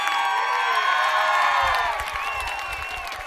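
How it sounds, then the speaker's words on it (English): A high school football crowd cheering and applauding in the stands, loud sustained roar with whoops and shouts rising, then fading slightly. "the Fighting Indians crowd is getting rowdy"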